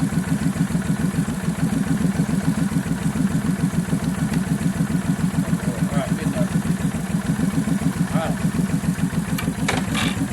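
A motorcycle engine idles steadily before a test ride, a loud, rhythmic low-pitched chug running evenly throughout with faint higher clatter near the end.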